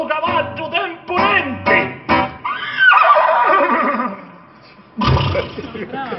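A performer's voice imitates a horse whinnying during a Sicilian dialect stage comedy in Taormina, a rising-then-falling neigh-like cry set between stretches of loud, animated talk.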